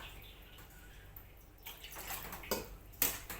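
Plant cuttings of golden pothos being rinsed in water to clear off dust, with soft splashing and dripping that builds after a quiet start and brings a few sharper splashes near the end, close by with no talk.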